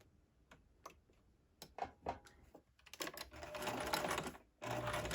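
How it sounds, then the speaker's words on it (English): A sewing machine stitches a seam with a backstitch: a few soft ticks, then quick, accelerating mechanical chatter that stops briefly before starting again, close and fairly quiet. "And then I back stitch, and I move my pin as I sew."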